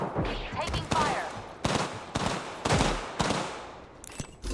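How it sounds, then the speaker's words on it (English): Bursts of gunfire from the video game Apex Legends rattle out in several sharp volleys with short gaps between, loud and close, with game voice lines heard alongside. "Taking fire."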